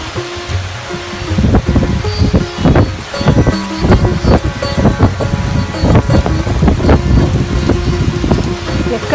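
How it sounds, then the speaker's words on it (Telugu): Heavy rain begins over a residential community in the United States. It makes a loud, dense wash of noise with scattered thumps and a gusty low rumble throughout. "అదిగో జోరు వాన మొదలైంది."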